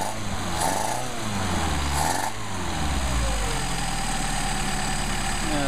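A Mercedes 190SL engine idling steadily after a carburetor adjustment, a continuous close mechanical hum with a faint high whine, two brief louder swells early on, then a deeper rumble settling in.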